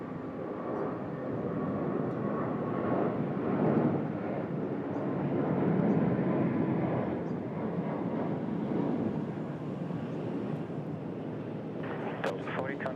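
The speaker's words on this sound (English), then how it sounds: "Here we go, Delta off to Los Angeles" A Delta airliner takes off from Sydney Airport bound for Los Angeles, a distant, moderate jet roar rising and falling in broad swells, with talk and radio chatter over it.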